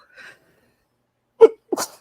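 Two sharp sneezes in quick succession near the end, each with a breathy burst, following a faint brief sound early on and otherwise quiet.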